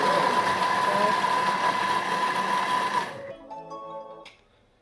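A Thermomix TM6 blending at speed 5 gives a loud, steady whir with a high motor whine for about three seconds, then cuts off abruptly, leaving faint rattling and clinking as it winds down.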